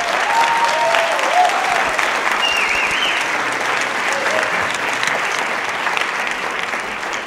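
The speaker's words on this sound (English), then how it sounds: "maybe give a round of applause, because they're wonderful, to Olivia Fredrickson and Josie Vescio." Steady, full applause from a concert audience fills the hall at the Fridley High School 2016 holiday concert, holding level throughout with faint voices barely surfacing underneath.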